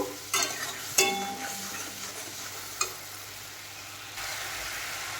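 Spice paste with Kashmiri chili powder frying in a pan for a pointed gourd and shrimp curry: a steady close sizzle and hiss, punctuated by a few sharp utensil clinks against the pan.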